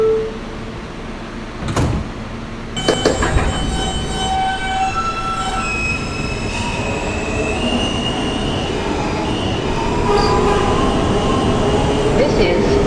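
Brooklyn-bound F local train on the New York subway running loud and close, a steady rumble of wheels on track with squealing tones and rattles building as it moves.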